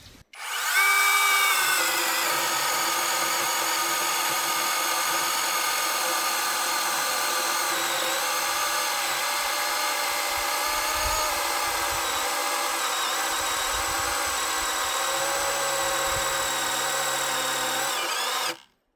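A first-generation Exitool cordless chainsaw motor revs to a high whine and holds a steady buzzing drone for several seconds before abruptly cutting out under load; no talking.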